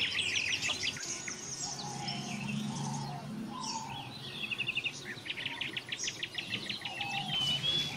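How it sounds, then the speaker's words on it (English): Many birds sing and chirp together in a forest at dusk, with a dense layered chorus of trills and repeated whistles close by over a steady background, no voices. "The bird song reaches a crescendo, filling the ear with an eternal chorus."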